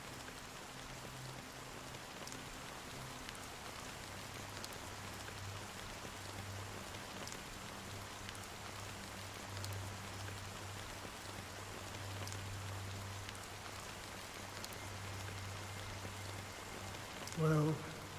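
Steady rain falls in the video game Honkai: Star Rail, a soft, even hiss of drops that lasts throughout under a low, sustained musical drone.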